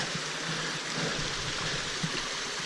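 Waterfall on a mountain trek at Cradle Mountain, a steady broadband rush of falling water that fills the whole clip, close and constant, with no voices over it.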